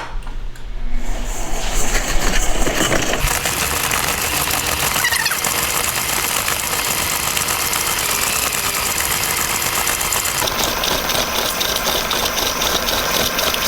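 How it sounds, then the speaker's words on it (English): A KitchenAid stand mixer runs at a steady whir as it creams sugar for banana bread, starting up and then holding a loud, even motor drone, near and without talk. "we're going to put our KitchenAid down, mixer down, and cream that for just a minute"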